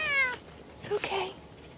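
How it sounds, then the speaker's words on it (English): A cat meows a few times, with a clear, tonal call at the start followed by shorter, softer mews, fairly close and under light background noise. "Come on, kitty kitty, come on."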